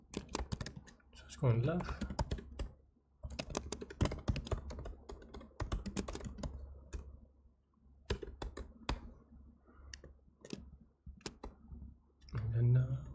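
Computer keyboard typing while solving a coding problem: bursts of fast, close clicking keystrokes that continue through and between a person's soft talk.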